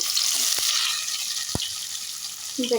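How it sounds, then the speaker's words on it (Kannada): Onions dropped into hot oil, a loud close sizzle that holds steady throughout with a couple of faint clicks from the pan. "ಈಗ ಎಣ್ಣೆ ಕಾದಿದೆ ಈರುಳ್ಳಿ ಹಾಕ್ಕೊತಾ ಇದ್ದೀನಿ"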